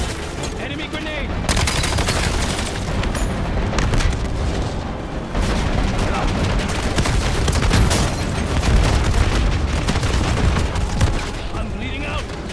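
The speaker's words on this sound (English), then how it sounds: "Enemy grenade!" A grenade goes off amid rolling bursts of gunfire in a snowy video-game battle, with dense, loud explosions and shots that continue steadily alongside shouted voices.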